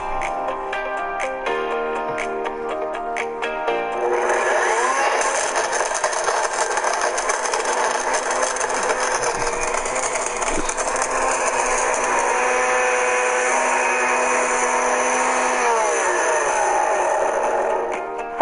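A blender runs with magnet pieces spinning inside the jar, giving a steady, loud, whirring motor drone with a faint rattle throughout and no voices.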